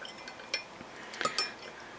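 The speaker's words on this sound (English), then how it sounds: "So I'm just stirring this up, hoping that I can get all of these to dissolve." A spoon clinks a few times against a container while stirring Epsom salts to dissolve them, faint sharp taps over a steady background hiss, no talking.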